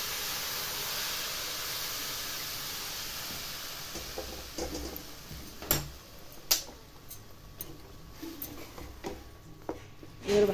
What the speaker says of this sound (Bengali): এবার এতে দেব আমি গরম জল।